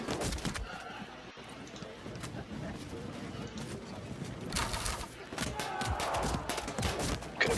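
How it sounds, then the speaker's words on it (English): Musket volley in the Field of Glory 2 strategy game, a low crackling rumble of massed gunfire that swells toward the end, mixed with battle ambience and someone talking over it. "I should be able to come out here and actually shoot them"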